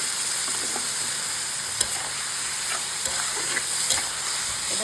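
A spiced tomato mixture with turmeric, chili powder and cumin powder fries in a pan, giving a steady loud sizzle with a few sharp stirring scrapes and clicks on top.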